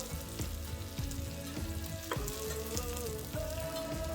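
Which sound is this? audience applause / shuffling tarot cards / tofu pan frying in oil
tofu pan frying in oil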